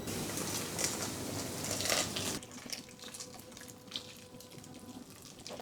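Boiled water pours in a steady rushing stream over cross-cut elongated fleshy tomatoes for Georgian ajapsandali, close and fairly loud for about two seconds, then gives way to quieter kitchen sounds.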